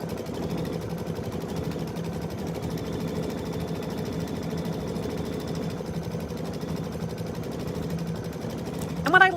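A sewing machine stitches out a shape in gray thread as the first step of a chenille project, giving a low, steady, fairly quiet whirring hum throughout.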